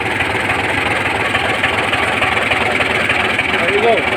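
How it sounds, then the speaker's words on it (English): A vehicle engine idling steadily after installation of a fuel device, a loud continuous low rumble with even vibration throughout. "now the engine is running."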